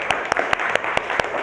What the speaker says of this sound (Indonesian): Jadi tepuk tangan yang meriah untuk kelompok 3.